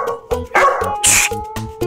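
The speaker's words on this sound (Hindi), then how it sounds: "खबरदार, ये बहुत ही संस्कारी कुत्ता है, सब लोग इसे ढोकला कहकर ही बुलाएंगे।" A dog barks repeatedly in a steady series of sharp, loud barks, close by and clear, with a brief higher yelp in the middle.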